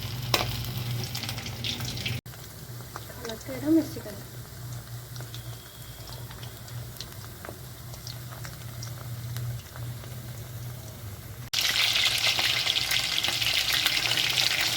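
Chicken pieces for chili chicken fry in refined oil with a steady bubbling sizzle that jumps noticeably louder and brighter toward the end.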